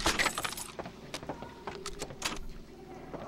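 A short metallic jangle of keys being picked up in the World War II shooter game Medal of Honor: Frontline, a few quick clinks and rattles, fairly quiet and close.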